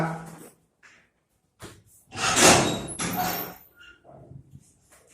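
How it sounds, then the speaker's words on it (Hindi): A door is pushed shut during an at-home mathematics lesson. It gives a couple of loud, close wooden thuds and rattles in the middle, with fainter knocks and shuffling before and after. "दरवाजा"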